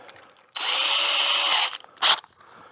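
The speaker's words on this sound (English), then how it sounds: "Okay, so we drill our pilot hole." A power drill bores a pilot hole into a chest freezer during a keezer build, whining loudly and steadily for about a second, then stopping, followed by a second short burst.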